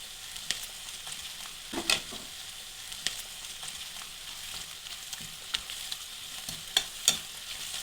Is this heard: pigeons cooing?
no